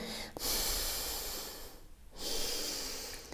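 Forceful breathing during a morning exercise routine: a long, loud, breathy exhale runs close to the microphone, then a short pause and a second strong exhale follows.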